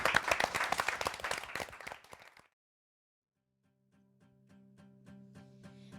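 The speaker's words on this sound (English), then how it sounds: "So let's give a round of applause to Desiree." Audience applause and clapping for a performer at a Filipino community event in Queens, dense and fairly loud, fading out after about two seconds before silence and then soft music.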